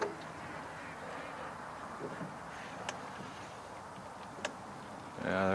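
Ducks quack on water in a few faint, brief calls, mostly near the end, over a steady outdoor background with light wind.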